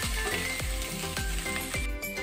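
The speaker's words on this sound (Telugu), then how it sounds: "స్టవ్ సిమ్లో పెట్టుకుని వేపుకోవాలి. మనం ఆయిల్ తక్కువ వేసుకున్నాం కదా, ఇది దోరగా వేపుకోవాలి." Onions fry in a little oil over a low flame, giving a steady close sizzle broken by regular soft scraping knocks as they are stirred in the pan.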